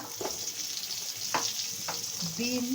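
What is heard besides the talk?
vegetables frying and being stirred in a kadai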